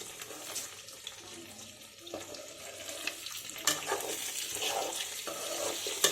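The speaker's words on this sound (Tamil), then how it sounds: "நல்லா ஒரு முறை கலக்கி விட்டுடலாம்" Pasta being stirred in a pan, a soft scraping and sloshing with light sizzling, close and fairly quiet, with irregular spoon strokes and no talking.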